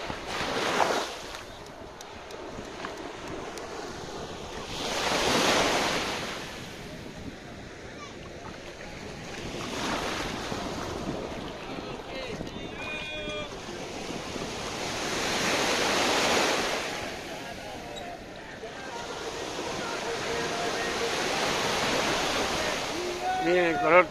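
Ocean waves roll in at Praia Daniela beach in Florianópolis, a near, continuous surf wash that swells in regular surges every few seconds, with people talking faintly over it.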